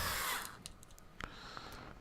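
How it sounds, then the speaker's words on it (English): A power drill drives screws into the front axle of a TRX4 RC truck: a short loud whirring burst at the start, followed by quiet clicks and faint taps of the workpiece, close up and without speech. "Now we can drive these 4 screws in."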